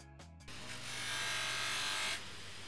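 Brass hardware from an antique Disston & Sons hand saw is polished with a power tool, giving a steady buzzing whir that rises for about two seconds after a few short clicks, close and alone.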